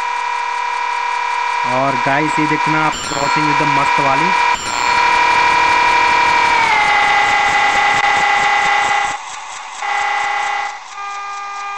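A diesel locomotive horn sounds at a level crossing in the Train Zimulator video game, a loud, sustained, steady blast held for several seconds after some mechanical clatter, while someone talks.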